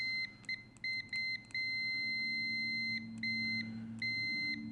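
Repeated high electronic beeps from a UNI-T UT39C+ multimeter continuity test, some short and quick, others held longer, sound loud and close over a steady low hum.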